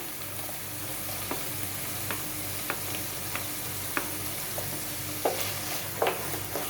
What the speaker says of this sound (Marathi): टोमॅटो अगदी मऊ होईपर्यंत आपल्याला तो तेलात परतून घ्यायचा आहे